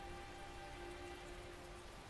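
Steady rain falls in the Tales of Zestiria video game, a soft, even hiss of raindrops on surfaces that continues unbroken and fairly quiet, with no voices over it.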